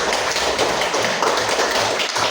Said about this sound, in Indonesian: tepuk tangan untuk ketiga teman kita yang sudah menjawab